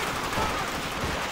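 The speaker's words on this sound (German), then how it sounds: "Ist das schon wieder ein Scharfschütze?" Rapid gunfire crackles continuously in a Call of Duty World at War trench battle, a dense burst of shots over a short moment with no pauses, moderately loud and without talk.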